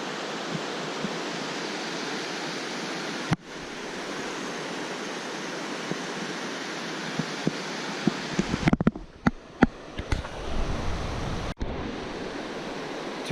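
A steady rush of river water flowing along the Walker Ranch Trail fills the air, a constant broadband roar, broken near the end by a few sharp knocks and handling noises.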